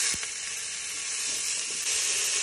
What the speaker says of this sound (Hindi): ये हमारे पास आधा किलो गोश्त है, इसको हम डालेंगे इसमें। थोड़ा सा इसको हम भूनेंगे